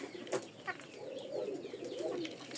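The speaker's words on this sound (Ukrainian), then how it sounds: "Тут курочка ходить сокорить." A hen walks about making soft clucking, cooing calls, a few short notes and then a longer, wavering stretch, faint and fairly close with a quiet outdoor background.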